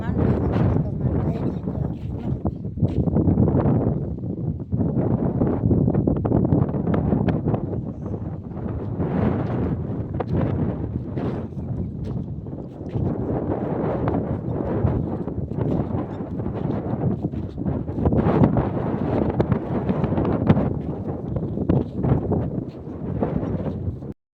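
Strong wind gusts buffet the microphone over open farm fields, loud rumbling surges rising and falling continuously.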